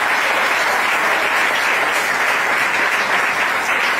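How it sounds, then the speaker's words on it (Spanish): A full audience applauds Gustavo at a university keynote lecture, a dense, steady wash of clapping lasting throughout without pause. "voy a pedir un aplauso para Gustavo con el cariño que se merece por su presencia"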